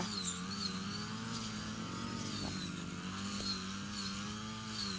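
A brush cutter's small two-stroke engine whines steadily at high revs, its pitch dipping briefly as it bites into wet grass after rain, continuous and close.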